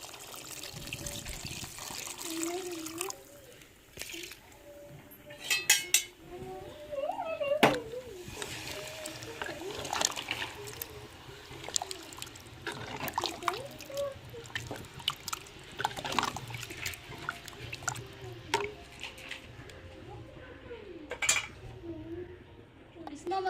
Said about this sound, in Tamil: தேவையான தண்ணி ஊற்றி கிண்டி விட்டுக்குறோங்க